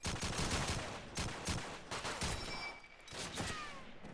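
Rifle fire from M1 rifles in a Call of Duty 2 multiplayer match, a rapid series of sharp cracking shots in quick succession, loud and close, with no talk over it.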